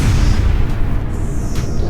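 Explosion in a low-budget sci-fi film, a loud, sustained rumbling roar with heavy low-end and crackling debris noise that holds steady throughout.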